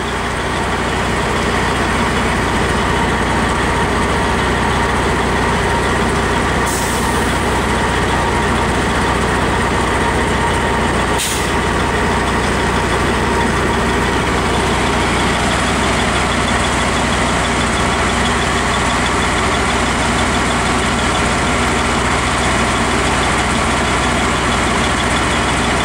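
CSX SR 00512 rail flaw detector and geometry car sitting with its engine idling, a loud continuous low rumble and hum that holds steady throughout, with a couple of brief sharp clanks.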